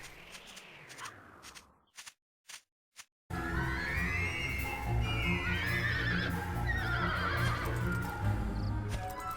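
A horse neighs in the video game Dragon Quest 8, giving a loud whinny followed by short bursts and then a busy stretch of clip-clopping hooves and clatter.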